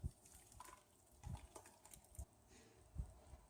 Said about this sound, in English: Then poured the slip into the mold